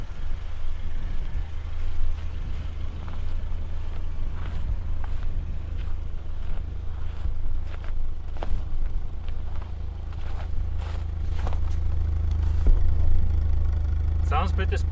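A Volvo 945 rear-wheel drive with a rotted-out muffler runs at a steady idle, a continuous deep rumble mixed with gusty wind noise and scattered thumps, growing slightly louder near the end.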